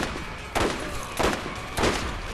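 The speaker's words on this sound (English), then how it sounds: "Who's shooting me?" Gunfire in the shooter game Borderlands: three loud, sharp shots spaced about two-thirds of a second apart over a steady bed of background noise, with no talk.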